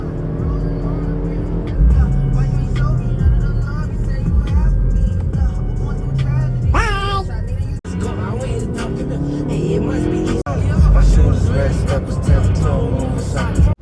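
Straight-piped Mazda 6 exhaust drones steadily while cruising, a loud low rumble from inside the car that runs the whole time with brief dips, and voices talk over it.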